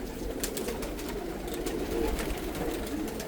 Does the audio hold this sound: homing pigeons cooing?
yes